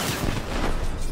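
A frag grenade goes off in Call of Duty, a loud, dense, rumbling blast mixed with gunfire that stays heavy and continuous through the short moment.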